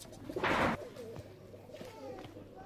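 A jira pigeon in a loft gives one loud, close coo. Softer murmurs and faint bird sounds follow over a low background hum.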